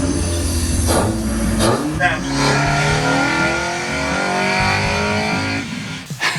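A car engine with a leaf blower forcing air into its intake in place of a turbo revs up and down in loud surges, with a whooshing, whiny air rush over the rumble, close by.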